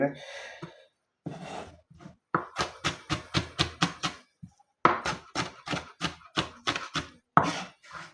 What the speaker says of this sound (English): So this one is a rough chop, and I'm not making a particular dices or something like that.